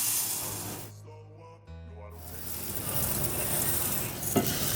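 Basmati rice stirred through melted salted butter in a pot, a soft close sizzle and gritty scraping that swells after a brief lull and keeps up steadily with a small knock near the end.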